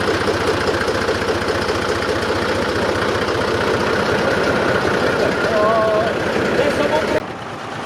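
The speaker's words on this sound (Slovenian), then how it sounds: "Tam 5500 je prvič po letu 1996 takole speljal." A 1996-era TAM 5500 truck engine idling after decades unused, a loud close diesel rumble with a steady knocking pulse that drops off abruptly near the end.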